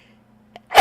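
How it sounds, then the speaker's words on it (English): A single human sneeze bursts out loudly at the end after a quiet moment and a short intake of breath. "I'm going to sneeze."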